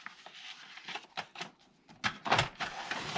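An inkjet-style printer feeding and printing onto a sheet of fabric loaded face down, giving a run of mechanical whirs, clicks and shuttling bursts that grow busier and louder toward the end, close by with no talk.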